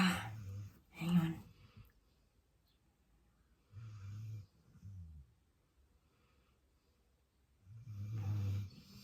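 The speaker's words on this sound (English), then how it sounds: "the snoring gets a little distracting, doesn't it, guys?" Slow, rhythmic snoring, several deep rasping breaths spaced a few seconds apart with quiet pauses between them, heard up close.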